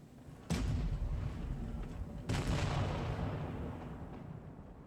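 Two heavy booming blasts of tank shells firing in a tank video game, each loud and sudden with a long rumbling tail, about two seconds apart.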